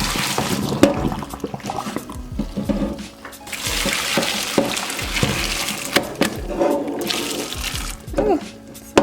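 Cooked lasagna noodles being drained, a steady broad rush of water pouring and splashing into a sink, with gurgling and clatter, lasting throughout at moderate loudness.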